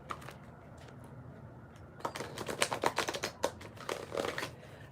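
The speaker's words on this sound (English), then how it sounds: "I'm gonna shuffle this deck" An oracle card deck is shuffled by hand, a rapid riffling flutter of cards in two bursts after a quiet start, close and crisp with no talking.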